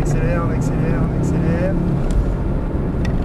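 A Ford Focus RS engine accelerating on a circuit, a loud continuous drone with rising engine tones in the first half, heard from inside the car with steady road and wind noise underneath.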